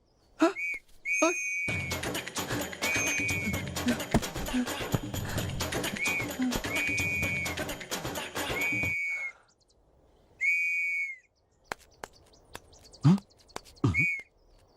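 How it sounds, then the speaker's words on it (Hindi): Loud, shrill whistle blasts repeat in short and long bursts over a noisy background, close by, with sharp clicks and pauses between. "तो ये पोट्टा बजा रहा सीटियां जब से"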